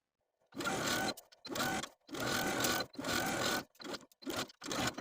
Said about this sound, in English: Now we'll take it to the machine and edge stitch close to that folded edge of the seam from top to bottom.